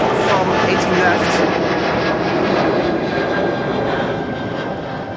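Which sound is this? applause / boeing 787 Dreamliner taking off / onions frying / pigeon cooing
boeing 787 Dreamliner taking off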